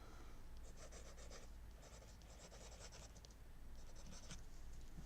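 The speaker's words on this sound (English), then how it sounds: "it is if I just write it out really fast" A word scrawled out quickly by hand, pen scratching across paper in several short bursts of rapid strokes with brief pauses between, close and quiet, no voices.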